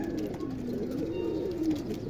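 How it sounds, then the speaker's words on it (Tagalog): A racing pigeon arriving at its loft in Atimonan, Quezon, coos softly and steadily in a low, warbling rumble close by, with no voices. "Ito yung arrive ng ibon"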